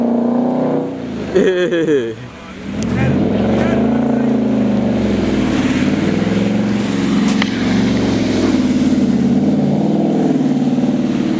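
A car spinning out with its engine revving hard, a steady loud roar that rises and falls in pitch and carries on close by; a brief voice is heard early on.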